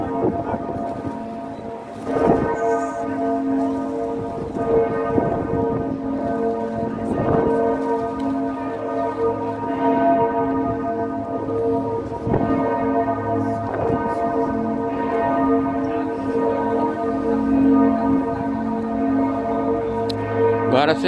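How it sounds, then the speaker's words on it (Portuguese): Hamburg cathedral church bell tolling with steady, repeated strikes that ring out loud and sustained, each stroke overlapping the humming decay of the last, with a noisy outdoor wash beneath and no speech. "olha o sino dela para vocês aí"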